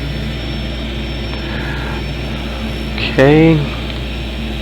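A Boeing 737 engine in the X-Plane 12 flight simulator gives off a steady, loud mechanical hum with a thin high whine, and one voice speaks briefly over it.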